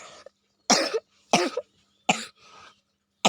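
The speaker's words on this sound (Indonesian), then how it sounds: "batuk." Three harsh coughs ring out close by, spaced about a second apart, each a short rough burst, with a softer breathy sound after the last.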